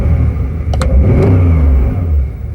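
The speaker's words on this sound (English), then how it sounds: "when I blip the throttle, you're actually going to hear the when the throttle cracks open" A Porsche 911R engine is revved with quick throttle blips, loud and close, its steady idle swelling into a rising, snarling rev with a couple of sharp mechanical snaps near the start and no talk over it.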